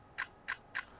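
Nikon Z9 camera shutter: three quick, crisp clicks in an even rhythm about a third of a second apart, faint and close, with no voices.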